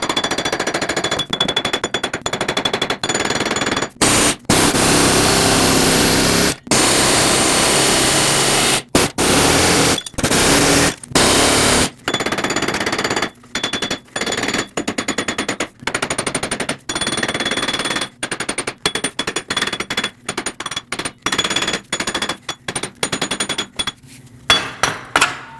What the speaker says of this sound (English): tap the wheel bearing side to side, top and bottom until it breaks free